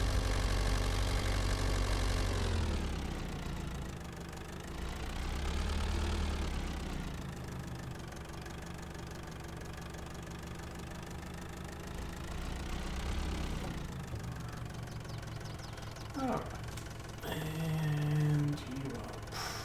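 Tractor engine idling in Farming Simulator 22, a steady low rumble that holds throughout with slight swells in loudness, and a few brief mechanical clicks and tones near the end.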